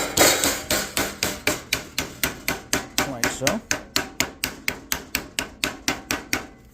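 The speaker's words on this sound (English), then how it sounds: "Then you're going to take your mallet again and then just hammer that back down," A mallet repeatedly strikes bent sheet metal being formed into a fitting, a steady run of about twenty sharp, ringing blows at an even quick rhythm, close and loud, with no talking.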